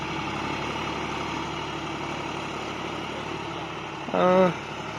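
Low, steady idle of a John Deere 5040D three-cylinder 2,900cc tractor engine, even and continuous, with a brief louder tonal burst near the end.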